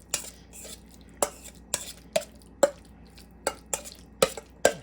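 A utensil scrapes and clinks against a bowl while egg salad is stirred, the sharp taps coming close and irregular, roughly every half second.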